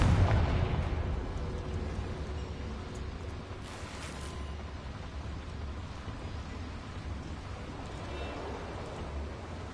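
A Confringo blasting curse in Hogwarts Legacy goes off as a loud explosive burst at the start, then fades into a long, steady rumbling roar.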